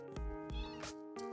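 A cat meows insistently several times in quick succession, loud and close, each cry rising and falling, with no talk over it.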